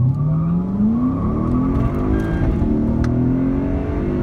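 A Porsche Cayman runs down a drag strip, its engine note climbing steadily as it accelerates and shifts, a loud continuous roar heard alone without talk.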